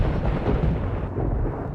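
A lightning strike thunder sound effect, a deep, loud rumbling roar that fills the whole stretch without a break, close and heavy with no voices over it.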